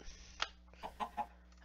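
Minecraft chickens cluck in a short game scene, giving several brief, fairly faint clucks spread across the moment, with a low steady background hum beneath them.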